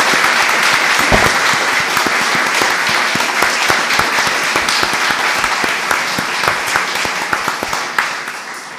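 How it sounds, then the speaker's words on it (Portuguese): An audience at a literary festival in Guimarães gives loud, sustained applause for two guests, dense close clapping with sharp individual claps standing out, continuing evenly for nearly nine seconds. "eu gostava de vos pedir uma salva de palmas para eles os dois."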